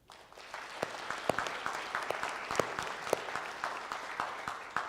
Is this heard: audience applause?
yes